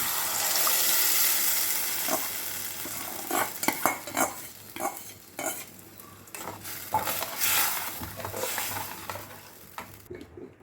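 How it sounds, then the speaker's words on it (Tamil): Ground paste poured into hot oil tempered with bay leaf and cumin for a paneer capsicum gravy, sizzling steadily while a spoon scrapes and clinks against the pan in irregular bursts, close up with no talking. "இடையில் எண்ணெயில் பிரிஞ்சி இலையும் ஜீரகமும் போட்டு தாளிச்சாச்சு இப்போ அந்த பேஸ்ட் அப்படியே ஊற்றிடலாம்"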